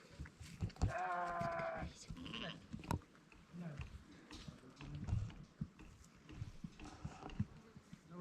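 Sheep at a hillside sheep farm near Kispang bleat in a clear wavering call, followed by scattered farm noise, footsteps and people talking nearby.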